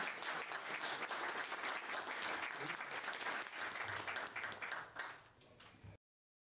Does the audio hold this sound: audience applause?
yes